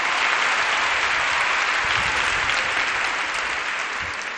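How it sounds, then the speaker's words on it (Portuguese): Congregation applauding in church during a women's worship service, loud, dense and sustained clapping from a large crowd filling the whole stretch without pause. "aplauda o Senhor"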